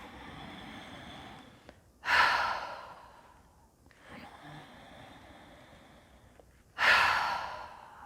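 During a breathwork session, a person takes two deep, loud breaths, each a sharp rush of air followed by a long, slowly fading exhale, with a quieter breath between them.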